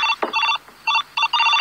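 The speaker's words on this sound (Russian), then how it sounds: "Пап, тебя к телефону, это Нидлс" A telephone rings in the home of the future from the 1989 film Back to the Future Part II. It gives short, bright electronic trills in quick repeated bursts, loud and clear with no talking.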